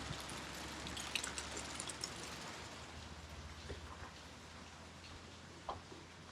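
Constant wash of heavy rain on a catamaran, with scattered louder drips and taps close by, steady throughout and without any talking.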